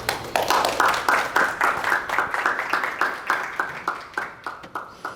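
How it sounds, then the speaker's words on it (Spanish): Audience at a lecture on super-resolution optical microscopy claps in a steady, fairly quick rhythm of distinct hand claps, close and moderately loud, slowly thinning toward the end. "Bienvenido, un aplauso"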